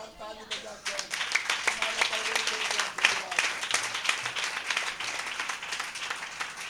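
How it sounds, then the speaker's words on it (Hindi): A church congregation at a Sunday sermon bursts into loud, sustained applause that fills the room. The dense clapping holds steady from start to finish with no pause. "जोरदार ताली बजाते हैं।"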